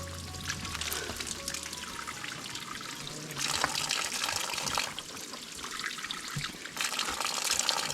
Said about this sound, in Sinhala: වතුර පාරක් අහුණා. වතුර ටිකක් දීලා බලමු.